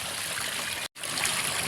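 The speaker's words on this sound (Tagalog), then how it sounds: "dire-diretso na yung dali ng tubig dyan" Water pours steadily into an outdoor pond for African catfish during a full water change, a continuous broadband rush with a brief break partway through, heard alone without talk.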